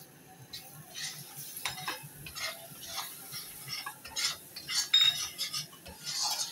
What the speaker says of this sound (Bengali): এই বেসনটাকে হালকা করে ভেজে নেব। কম আঁচেই ভাজতে হবে